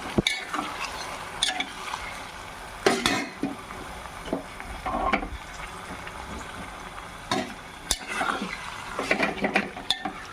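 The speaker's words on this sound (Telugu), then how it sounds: "మటన్ వేసుకొని ఒక్కసారి తిప్పుకుందాం." Mutton pieces tossed with softened onions in a cooking pot, with repeated scraping and clanking stirs against the metal over a faint sizzle, close by and irregular.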